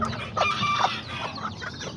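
Aztec and serama chickens and a rooster clucking close by, several overlapping calls in short bursts with a brief crow-like note, steady farmyard chatter throughout.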